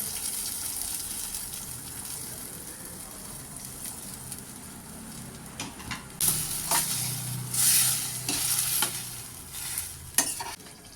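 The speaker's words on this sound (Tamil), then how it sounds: "இப்போ குக்கரில் வெந்த காராமணி அதையும் அதில் சேர்த்துக்கலாங்க" Cooked cowpeas are tipped into a pan of sautéing brinjal and stirred, giving steady scraping and stirring with a loud sizzle and splashy bursts of frying. No one talks.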